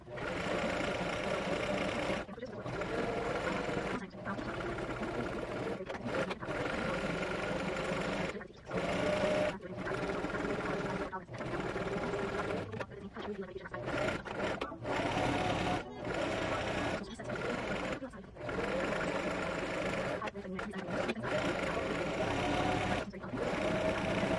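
A sewing machine stitches keychains in long, steady runs of fast mechanical whirring, broken by short pauses between seams, close by and alone.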